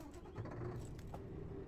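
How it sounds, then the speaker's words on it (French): A steady, low V8 truck engine rumble in Euro Truck Simulator 2 drones throughout, even and continuous with a faint higher whine layered on top. "le bon son du V8"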